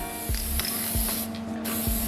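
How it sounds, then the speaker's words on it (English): Three short hissing bursts of spray paint on engine gaskets for an R33 Nissan Skyline, evenly spaced, close by over a steady low hum. "Once again, spraying the gaskets to match the rocker covers."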